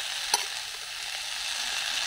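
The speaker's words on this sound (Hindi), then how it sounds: "वो आलू और फूल डाल के साथ में इसको हम चलाएंगे।" Sunn hemp flowers and potatoes being stirred in hot tempering oil in a pan, a constant frying sizzle with one sharp scrape of the spoon near the start, close and steady, no speech.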